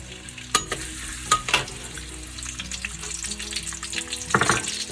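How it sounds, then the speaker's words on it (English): Chopped garlic sizzles in hot oil in a wok, a steady close crackle broken by several sharp louder spits and stirring scrapes, with no talking. "then add your chopped garlic"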